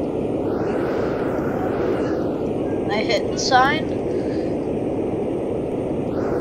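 Steady, loud roar of a jet-powered plane flying in the video game Plane Crazy, a continuous drone with a brief spoken remark over it.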